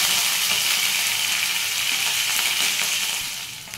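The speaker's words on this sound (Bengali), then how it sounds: "তেল আমার গরম হয়ে গেছে। এখন আমি এর মধ্যে দিয়ে দিচ্ছি কাস্তুরি মেথি" Kasuri methi and chopped green chilli fry in hot oil for aloo paratha, a close, loud, continuous hiss and crackle that eases slightly at the end.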